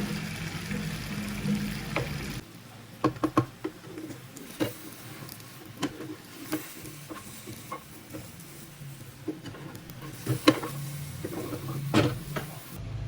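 Egg mixture for tamagoyaki fries in an oiled pan with a soft, steady sizzle, punctuated by light taps and scrapes of a utensil, faint and close with no talk.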